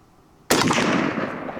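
A single sharp gunshot from a Zastava ZPAP M70 AK-47 rifle with walnut furniture, fired outdoors at a range, loud and close, with a long reverberating tail fading after the crack.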